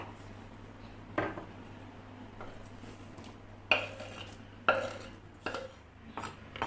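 Chopped celery is dropped into a bowl of lemon water in a quiet kitchen, a few separate soft splashes and clinks spaced out over several seconds, faint and close.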